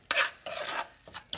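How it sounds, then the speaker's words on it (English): A spoon works white sugar into fresh-peach cobbler filling, making three or four quick gritty scraping strokes close up, each one short and raspy with small pauses between. "Let's go and add some white sugar. All right. Stir that up in there."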